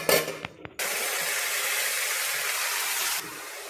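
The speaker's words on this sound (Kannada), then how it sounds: "ನೀರು ಹಾಕಿ ಬೇಯಿಸ್ಕೊಳ್ತೀನಿ" Water poured into a hot pan of roasted field beans gives a sudden loud, steady sizzling hiss that holds for a couple of seconds, then cuts off sharply. Faint clatter comes just before the pour.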